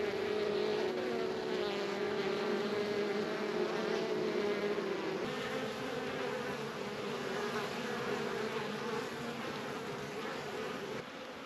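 Honeybees buzz continuously in a dense, steady drone around a swarm catcher box on a farm, close and full, with the pitch wavering slightly as bees move about.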